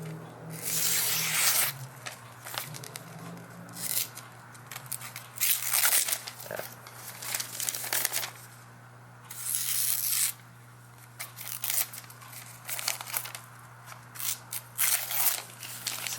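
A sharp Mora knife slices through thin catalog paper in repeated crisp, hissing strokes with brief pauses between them, close up and without talk.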